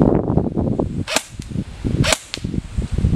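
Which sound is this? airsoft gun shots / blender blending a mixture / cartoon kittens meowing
airsoft gun shots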